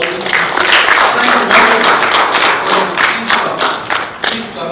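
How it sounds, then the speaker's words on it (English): Audience applause at a leadership awards ceremony, a dense sustained wash of clapping from a full crowd, steady for several seconds before thinning slightly at the end. "Can we thank them and applaud for all this?"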